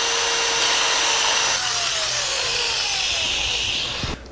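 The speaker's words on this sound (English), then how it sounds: "Sand the bottom and sides of the bowl to remove any machining marks left behind by the router bit." Steady, loud abrasive whirring of a flexible sanding disc on a wooden bowl, smoothing router marks, continuous and close, with no talking.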